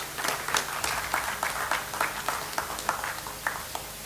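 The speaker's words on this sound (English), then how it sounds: "Let us give him a round of applause." An audience at a farmers' business school launch event applauds a sales and distribution officer, with moderately faint, uneven clapping in scattered bursts that tapers off toward the end.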